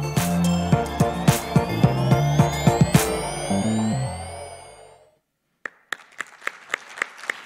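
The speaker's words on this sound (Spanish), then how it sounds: "Un fuerte aplauso." Sparse audience clapping at a circular economy seminar for INIA Kampenaike in Magallanes follows a stretch of loud music, with a few separate, close hand claps ringing out after a brief silence.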